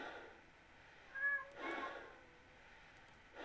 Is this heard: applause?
no